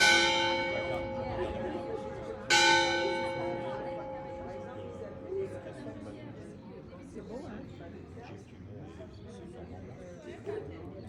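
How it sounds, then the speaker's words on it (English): Church bells ring out along the Camino de Santiago between Burguete and Zubiri, two strong strikes early on, then a long fading hum with soft chatter from people nearby. "the bells of the church kept going, and it was really good."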